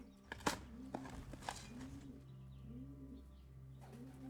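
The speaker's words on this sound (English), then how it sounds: "Hello, pigeons, or doves, or whatever." Pigeons or doves in the video game Blue Prince give soft, low repeated coos in a slow rhythm, with a few light flapping or tapping sounds early on over a quiet ambient background.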